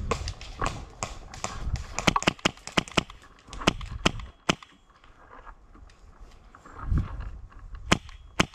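Airsoft gunfire from an HPA SCAR L during an outdoor game, with sharp close cracks fired singly and in quick bursts, irregular clusters of snaps, and quieter shots farther off.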